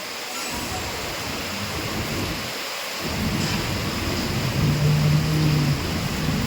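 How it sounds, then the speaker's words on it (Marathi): Heavy rain pours steadily in Lonand, Maharashtra, in a dense, continuous hiss with low rumbling, growing a little louder partway through. "कमी झाला थोडासा कमी झाला पाऊस"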